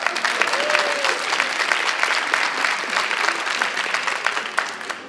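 Audience applause fills a stand-up comedy show, steady dense clapping from a crowd for the full few seconds, loud and continuous with scattered sharper claps and a brief whistle or cheer near the start.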